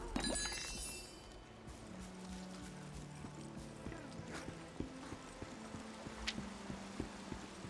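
Hooves clip-clop from a horse ridden by a boss in the online action game Lost Ark, a steady run of light knocks over the game's music and ambient battle noise.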